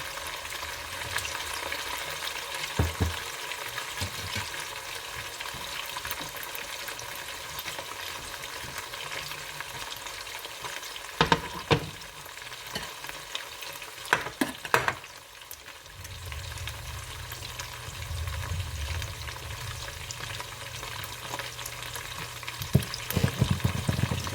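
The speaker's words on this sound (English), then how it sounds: "I have at least a tablespoon of oil before I put my pork in." Pork frying in oil in a pan for a stir-fry, a continuous close sizzle with occasional sharp clicks and scrapes as it is stirred, no talking.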